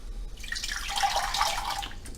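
Fresh filtered water pours into a soup pot of chili and chicken soup, a steady splashing, gurgling stream that swells slightly in the middle, close and continuous with no talking.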